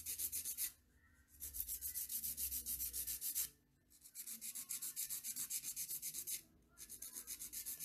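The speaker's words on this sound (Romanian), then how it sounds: "Și o spilesc până când găurica respectivă ajunge la nivel cu restul unghiei." Rapid, raspy back-and-forth scraping of a nail file on a fingernail, in three bursts separated by brief pauses, close and clear with no talking.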